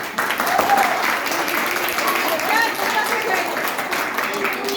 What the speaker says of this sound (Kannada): ನಮ್ಮ ದೇಶದ ಮುಂದಿನ ಸೈನಿಕರಿಗೆ ಒಂದು ದೊಡ್ಡ ಚಪ್ಪಾಳೆ ಬರಲಿ.